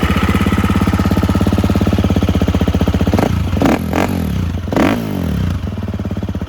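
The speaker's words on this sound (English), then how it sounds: "I'll start it up for you and let you hear how noisy or not noisy it is with the FMF." A 2022 KTM 350 EXC-F dirt bike with an FMF exhaust idles loud and close with a steady, rapid thumping pulse, broken by a few quick throttle blips midway.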